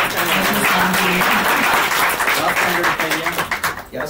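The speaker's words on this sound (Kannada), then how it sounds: "ಜೋರಾದ ಚಪ್ಪಾಳೆ ಬರಲಿ" Loud, dense applause from an audience at an album song launch press meet, sustained for several seconds with voices mixed in and fading slightly at the end.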